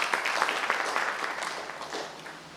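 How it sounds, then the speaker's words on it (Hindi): Audience applause fills a hall, a dense steady clapping that carries throughout at moderate loudness and fades slightly toward the end, with no talk over it. "इनके लिए जबरदस्त ताली हो जाए।"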